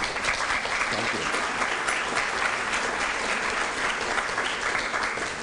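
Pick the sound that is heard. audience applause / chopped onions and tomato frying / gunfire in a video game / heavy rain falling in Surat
audience applause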